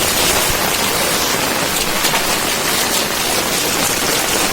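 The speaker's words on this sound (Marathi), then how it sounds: "खूप पाऊस आहे हे बघा" Heavy rain pours down in Konkan in a steady, dense roar of broadband hiss that stays loud and constant throughout, with no voices.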